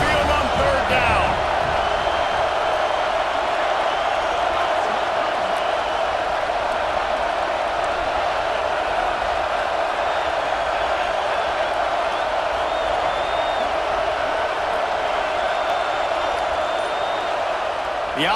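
Stadium crowd noise in EA Sports College Football 26 as the Tide crowd roars onto Saban Field on third down: a steady, loud, dense wall of cheering that holds level throughout with no gaps.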